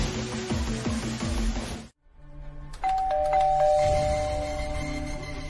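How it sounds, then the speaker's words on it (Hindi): A doorbell rings at a home door in a Hindi TV drama scene, its electronic chime tones sounding after a brief moment of silence, following an earlier stretch of ringing, clear and close with no talk. "इतनी बार बेल बजा चुकी हूँ"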